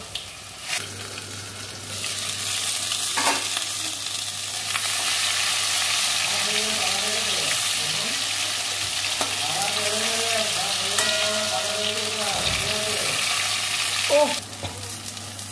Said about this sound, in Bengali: কড়াইয়ে সর্ষের তেল দিয়েছি, এবার আমি একটা করে ভেজে নেব